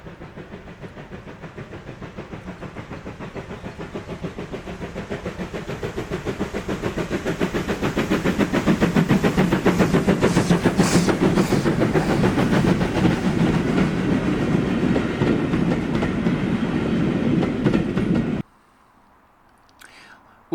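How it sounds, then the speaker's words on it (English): LMS Ivatt Mogul steam locomotive 46512 working the northern extension of the Strathspey Railway beyond Broomhill, a rhythmic chuffing and rail rumble that builds steadily to a loud pass before cutting off abruptly. "we see LMS Ivat Mogul 46512 operating over part of the northern extension beyond Broom Hill"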